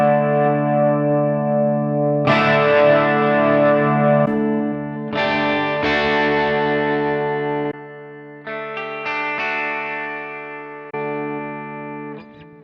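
Electric guitar runs through a Fractal FM9 amp modeler while presets are switched, sustained distorted chords ringing loud and close, with the tone changing abruptly at each preset change and no gaps between, alone without talk.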